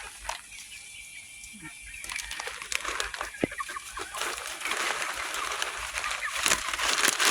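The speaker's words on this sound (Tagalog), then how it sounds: "Ang dami ding mga manok." Chickens cluck and chatter nearby in a busy, overlapping flock, with occasional sharper calls and some rustling.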